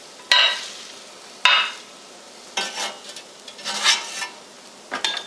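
Bacon fat sizzling in a frying pan as a utensil pushes and scrapes the strips around, several distinct scraping strokes over a steady soft crackle, close and with no talking.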